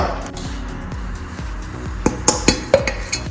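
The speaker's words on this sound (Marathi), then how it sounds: "आपण तांदळाच्या पिठामध्ये आपण तो एक ग्लास गुळ आधी मिक्स करून घेऊ" Jaggery is mixed into rice flour in a bowl for anarsa dough, with low scraping and stirring strokes followed by several sharp clinks of a utensil against the bowl near the end.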